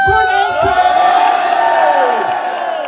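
A large crowd at a company associates' gathering cheers and whoops loudly, with voices carrying strong sustained shouts that slowly taper off, and a little clapping mixed in.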